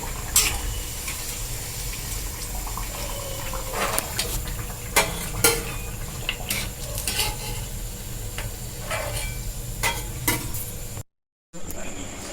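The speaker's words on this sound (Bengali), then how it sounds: "দেখুন কি সুন্দর পটলের পকোড়াগুলো সুন্দর করে ভাজা হচ্ছে" Pointed gourd pakoras frying in hot oil, a steady sizzle with repeated scraping and clinking as a utensil stirs them in the pan, close and continuous, with a brief dropout near the end.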